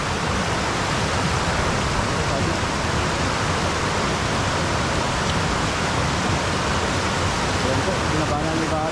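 River current rushing below a dam, a dense, unbroken roar of churning water at constant loudness throughout, close and full, with no voices breaking through.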